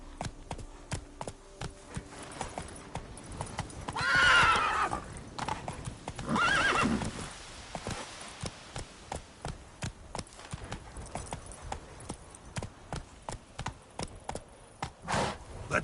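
The horse Roach in The Witcher 3 gallops with rapid, steady clip-clop hoofbeats, broken by two loud neighs and a later whinny.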